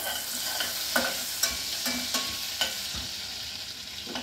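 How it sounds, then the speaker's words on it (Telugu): Cardamom, cloves and cinnamon frying in a pan, a soft steady sizzle broken by sharp stirring scrapes and taps roughly every half second, close and fairly quiet. "యాలకులు, లవంగాలు, దాల్చిన చెక్క, ఇలాచి, కొద్దిగా వేగాలి."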